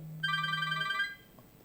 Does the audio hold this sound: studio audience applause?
no